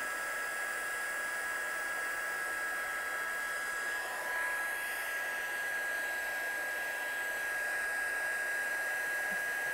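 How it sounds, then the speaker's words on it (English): An embossing heat tool melts embossing powder on a card, blowing with a constant hair-dryer-like whoosh and a thin high whine that hold steady throughout, close and fairly loud, with no talking. "I'm just going to seal that embossing powder with the heat"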